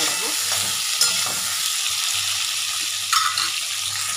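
Aubergine pieces fry in hot oil in a pan alongside potatoes with cumin, a steady soft sizzle with occasional stirring scrapes and clinks of a utensil.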